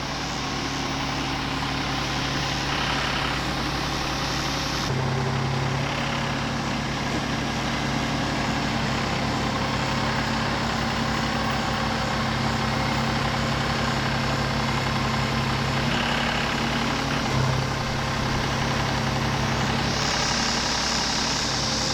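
A tractor engine runs steadily nearby, a loud continuous low rumble with slight shifts in tone and no talking.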